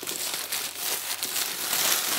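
Gift wrapping paper is ripped open in a quick burst of close, crinkly tearing and rustling lasting about two seconds, with no one speaking.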